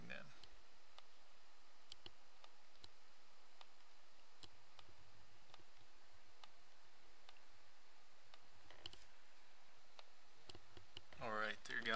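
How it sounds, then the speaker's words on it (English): Computer mouse clicks while toolbar buttons are removed in ArcPad software, a steady run of faint, evenly spaced clicks at close range, quiet and alone. "So I'm just clicking on them and removing them."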